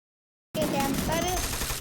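Automatic M10 gunfire in a mobile battle-royale shooter, a dense burst of rapid shots that starts abruptly after half a second of silence and stays loud and continuous.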